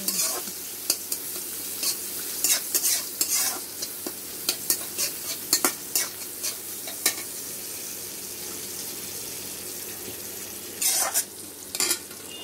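Chopped onion frying in a pan as filling for stuffed pointed gourd, with a soft steady sizzle under repeated sharp scrapes and knocks of a spatula stirring, in bursts with pauses between.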